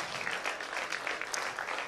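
An audience at a church revival event claps for single moms, a dense, close burst of applause with no cheering or voices above it.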